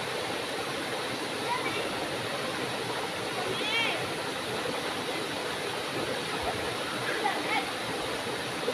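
Lambingan Falls on Sibuyan pours with a strong, constant rush of water, steady and fairly close, with brief faint voices in the background.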